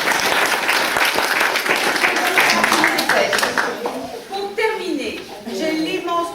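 Applause from a theatre audience at a comedy show, dense clapping that fills the first few seconds, then thins and gives way to voices speaking over the last part.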